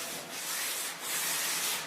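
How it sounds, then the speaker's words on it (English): Steady back-and-forth rubbing of sandpaper flat across a wooden board, close and continuous, with a rhythmic swell on each stroke. "I'm just giving it a flat sanding to help knock off any of those little bumps"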